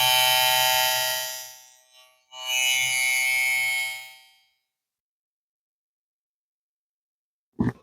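Lilipro hair clipper with a freshly changed blade, running at 8,000 RPM: a loud, steady high-pitched buzzing whine that stops briefly, starts again for about two seconds, then cuts off, followed by silence and a short click.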